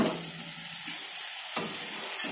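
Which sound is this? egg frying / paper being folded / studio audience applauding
egg frying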